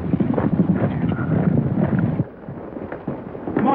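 A horse's hooves clip-clop in a busy, uneven patter, recorded on an old 1932 western soundtrack with a hissy, band-limited tone; the trotting eases briefly midway, then picks up again.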